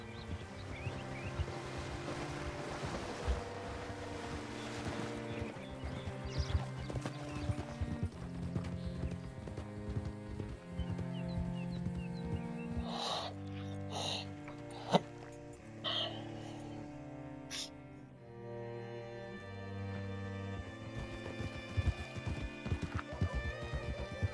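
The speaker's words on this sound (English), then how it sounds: "Hitch your horse up here." Horse hooves clip-clopping at a steady walking rhythm in the Red Dead Redemption 2 video game, with a neigh partway through, mixed under a layered musical score and ambient game sound.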